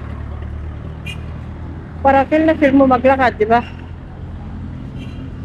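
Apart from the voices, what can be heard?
sound of passing vehicles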